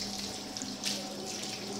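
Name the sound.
water running from a tap while rinsing hands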